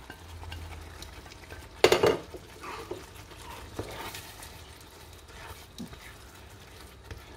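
Chicken meat tipped back into a pan of madras sauce with coconut milk lands with a clattering thud, followed by a few scraping stirs and a faint sizzle, close up.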